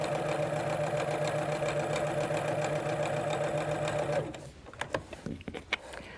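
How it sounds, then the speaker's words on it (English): Sewing machine straight stitching over scalloped piping, running as a steady close mechanical hum for about four seconds, then stopping and leaving a few soft clicks and handling taps. "we'll straight stitch right over top of the previous stitching"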